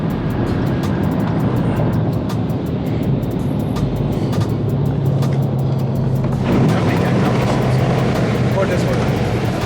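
A new Dodge Hellcat Charger makes another run, its engine a continuous heavy roar and rumble that swells slightly toward the end, with a person talking over it.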